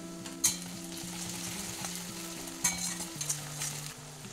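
Ginger-garlic paste sizzling with lightly fried onions in a pan, a steady close frying hiss with a couple of sharper spits and stirring clinks.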